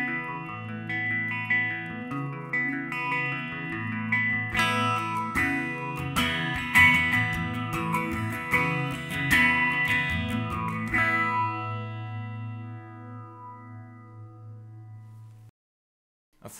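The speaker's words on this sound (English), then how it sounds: "A phase shifter, or a phaser, is a very swirly, swooshy modulator" An electric guitar run through a phaser pedal, strummed chords and picked notes with a swirling, swooshing modulation, loud and steady for most of the passage before fading and cutting off, with no talking.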